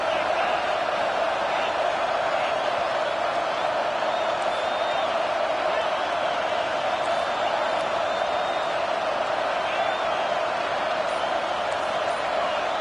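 A packed stadium crowd at a football game roars steadily and loudly throughout, a dense continuous wall of noise with scattered whoops rising above it.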